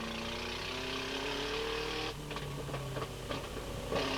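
A TVR Tuscan race car engine at a 1996 Tuscan Challenge race runs with a rough, rattly, tractor-like note, a steady loud drone with uneven clattering bursts toward the end.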